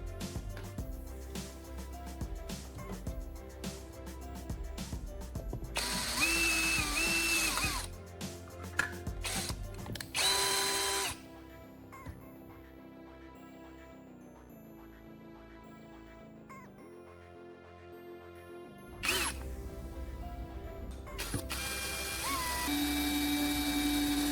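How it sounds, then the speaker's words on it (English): A power drill whirs in several bursts of varying length, making holes in a phone charger's plastic casing, with quieter mechanical clicks and handling noises between runs. "using a drill to create these clean holes"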